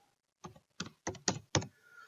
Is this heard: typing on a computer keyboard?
yes